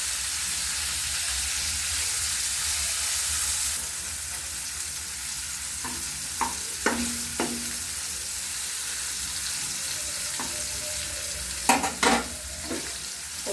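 Cubes of paneer sizzle in hot oil in a pan for chilli paneer, a steady bubbling hiss that softens partway through, broken by several sharp scrapes and clinks of a spatula stirring and lifting the pieces.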